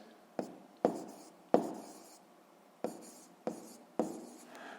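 Pen writing on paper while working a sixth-grade math problem, six separate close scratchy strokes, each starting sharply and fading, with quiet gaps between them.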